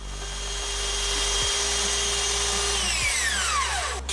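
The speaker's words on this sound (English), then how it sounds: "I'm just going to use my belt sander to kind of grind it away" A belt sander roars steadily for several seconds, grinding away wood while making a cane sword, then winds down with a falling pitch at the end.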